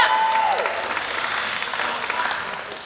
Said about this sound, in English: keep that round of applause going for your next act, my favorite, Nicky Barry